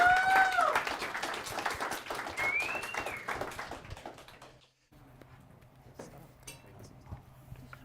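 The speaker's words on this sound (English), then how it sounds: "quick round of applause" Short round of audience applause at a developer meetup event, moderate clapping that fades after a few seconds, followed by a quieter room with a faint hum and scattered taps.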